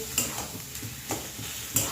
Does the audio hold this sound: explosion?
no